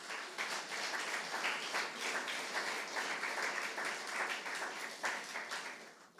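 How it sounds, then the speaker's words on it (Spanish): A church congregation clapping for the Lord during a Sunday service, dense continuous applause, loud and steady with no talking over it. "Démosle palmas al Señor"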